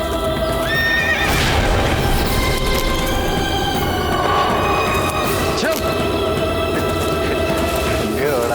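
In a historical drama, a horse lets out loud, drawn-out whinnies over continuous clip-clopping hooves and dense background noise, with someone talking throughout.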